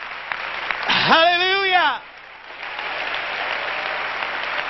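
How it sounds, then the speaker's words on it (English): A church congregation claps hands together in a brief, loud burst of applause that fades quickly, with a voice calling out over it. "Let's clap our hands unto the Lord together."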